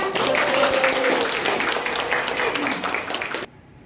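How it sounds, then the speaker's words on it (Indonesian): Classroom applause for a presenting student group during a teaching practice session, a dense burst of clapping with some voices mixed in that runs for about three and a half seconds before stopping abruptly. "Oke, tepuk tangan untuk kelompok kedua."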